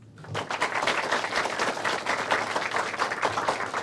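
Audience applause at a Junior Mayor's Association presentation day, rising quickly after a brief quiet moment into sustained, even clapping from a gathered crowd that continues at a fairly constant level.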